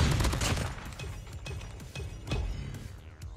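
Gunfire in COD Mobile, a series of sharp shots at irregular intervals, fairly close and loud, with one heavier burst near the start.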